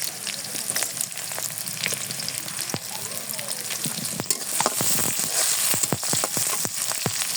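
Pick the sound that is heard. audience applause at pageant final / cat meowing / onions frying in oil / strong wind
onions frying in oil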